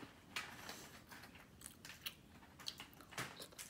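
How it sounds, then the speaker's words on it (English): A fried sunny-side-up quail egg being chewed up close: soft, moist crunching and biting sounds in an irregular rhythm, quiet and with no talking. "So I'm almost done chewing it."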